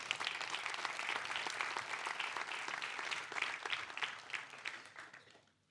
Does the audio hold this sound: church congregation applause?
yes